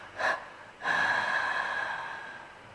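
A brief sharp gasp, then a long, drawn-out rasping breath that slowly fades, eerie and close, heard from the bathroom of the room next door.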